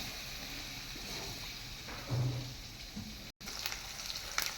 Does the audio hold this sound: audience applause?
no